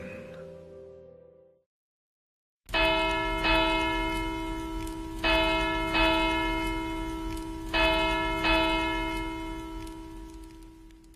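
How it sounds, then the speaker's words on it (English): Castle church bells toll in a slow, even series of deep resonant strikes, each ringing out and fading into the next, loud and clear after a brief silence, with no one talking. "The tolling of the bells at Canterlot Castle signalled both the end of the day and the changing of the guard."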